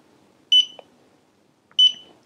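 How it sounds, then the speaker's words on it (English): A Smart Sensor AS8903 digital carbon monoxide and hydrogen sulfide gas meter beeps as it powers off: two short, high electronic beeps about a second apart, close and clear against near silence. "Simply hold this power button here and wait for three beeps."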